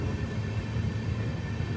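The Panchaganga Express leaves Channarayapatna station with a loud, steady low rumble. A deep engine drone and rolling noise are heard from on board, and no one talks.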